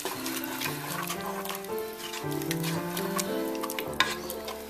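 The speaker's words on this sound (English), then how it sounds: "And our garlic. We're going to stir this up." Garlic frying in oil in a pot for an Italian pork stew, with steady sizzling and soft stirring scrapes running throughout at close range, plus a brief sharp clink near the end.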